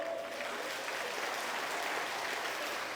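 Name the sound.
audience applause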